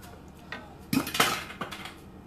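A spoon clinks and scrapes against a pot as mushrooms are stirred into a shrimp Creole, a few quick close metallic knocks and a scrape, fairly quiet, with no voices.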